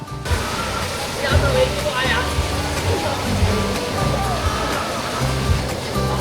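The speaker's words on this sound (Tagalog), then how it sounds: "Malamig ang tubig na umaagos pababa dito" Water rushes steadily down the Puning Gitara River Falls in Bulacan, a close, continuous splashing roar, with people talking over it.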